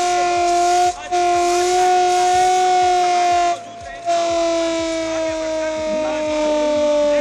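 A civil defence air raid siren sounds during a nationwide mock drill, a loud sustained wailing tone with rich harmonics that drifts slowly in pitch, briefly broken twice, over a rhythmic low mechanical pulsing and faint crowd noise.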